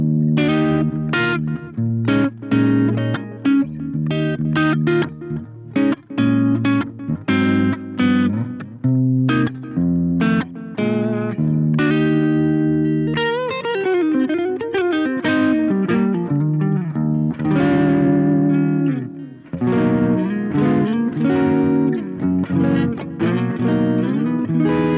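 An electric guitar played through a Blackstar Fly 3 mini amp with the gain halfway up, in clean tones with delay, plays continuous strummed chords and picked runs that ring out with echoing repeats, loud and alone throughout.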